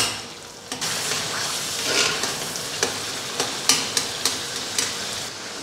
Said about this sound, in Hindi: छिलके निकल जाएँ तो इन टमाटरों को इस तरह इसके अंदर मैश कर लें